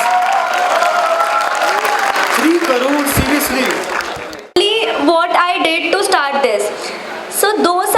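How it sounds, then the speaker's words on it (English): A college fest audience gives a round of applause, loud dense clapping filling the first half, then crowd noise and cheering voices carrying on with talk over it. "तो एक round of applause तो बचता है, please."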